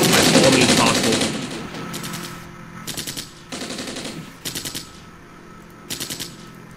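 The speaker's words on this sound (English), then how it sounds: "Getting some really nice shots here from the woods." Machine-gun fire rattles in repeated short bursts in the Armored Brigade war game, an infantry battle in the woods of southeast Finland: one heavy opening burst, then several clipped volleys at steady intervals.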